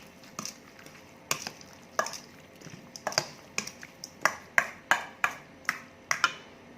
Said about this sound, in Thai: คนให้มันเข้ากันเนาะค่ะ